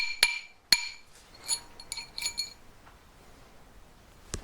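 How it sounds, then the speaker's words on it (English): Rawhide mallet tapping a metal ring to push out-of-shape metal back down: two sharp, bright metallic taps close together near the start, then softer clinks and ringing taps trailing off, close and fairly loud with no talking. "A couple of taps with this one."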